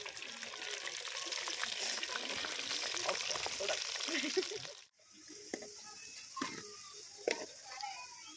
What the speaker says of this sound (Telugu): గోల్డ్ కలర్ వచ్చేంత వరకు ఇవి ఇలా వేయించుకోవాలి